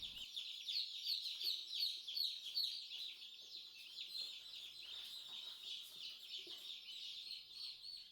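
Chickens and turkeys kept indoors in a house during cold weather, giving a steady flutter of high chirps, peeps and clucks, moderately loud and close, with no talking.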